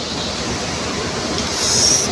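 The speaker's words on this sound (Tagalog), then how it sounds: "Yung MRT papuntang north yan, papuntang monumento yan." An MRT train heading north toward Monumento rolls past with a steady rush and rumble, and a faint high wheel squeal rises near the end.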